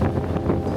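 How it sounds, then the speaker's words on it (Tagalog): Strong gusty wind blows outdoors at Siam Square in Bangkok at night, buffeting the microphone with a loud, rough, continuous roar. "Tsaka sarap ng hangin, lakas."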